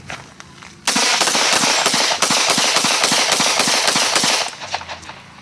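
A Glock 20 in 10mm and a Glock 21 in .45 ACP, both Gen 5, fire at an outdoor range in a dense, rapid string of about a dozen loud, sharp pistol cracks lasting several seconds, close and without talk.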